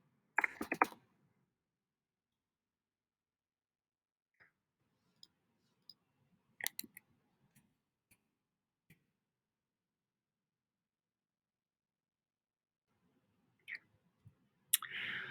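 Sparse, faint clicks of a computer mouse in a quiet room, including a quick double click, with a few scattered taps and brief rustles between long silences.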